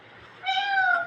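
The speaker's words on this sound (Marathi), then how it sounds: "मांजरीचा आवाज आला ना तुला?" A cat gives a single clear, drawn-out meow indoors, moderately close and standing alone against quiet background.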